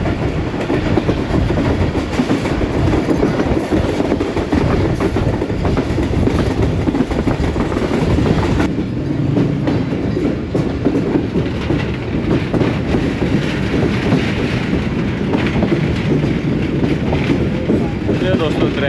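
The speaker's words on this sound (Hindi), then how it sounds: "दोस्तों क्रैच जेलम के ऊपर से गुजर रही है हमारी ट्रेन" Inside a Subak Raftar railcar crossing the Jhelum bridge, the train rumbles loudly and steadily with rhythmic clickety-clack from the wheels and wind noise on the microphone, and the tone shifts midway.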